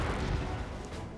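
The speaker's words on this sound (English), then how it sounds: "Piercing missile!" A piercing missile attack in the video game Front Mission 4 lands as a dense, loud roaring blast that fills the whole moment with heavy rumble and no gaps.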